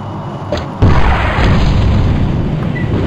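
A mortar shell explodes in the Battlezone video game with one sudden heavy boom, followed by a loud, sustained rumbling roar that slowly fades; no talking.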